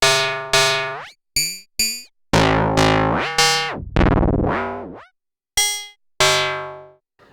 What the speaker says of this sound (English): E is 2 oscillators FM with white noise.